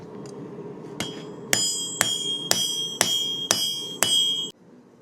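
A hammer strikes high carbon steel on an anvil that has no chain to deaden it, five loud, bright ringing blows at an even pace, each leaving a sustained metallic ring.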